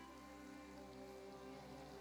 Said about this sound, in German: Es regnet halt jetzt einfach.